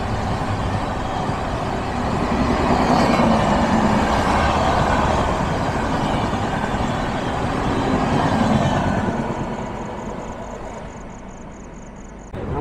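Train 12329, the West Bengal Sampark Kranti, rumbles past close by with a loud, steady roar of wheels and carriages that swells and fades over about twelve seconds before trailing off.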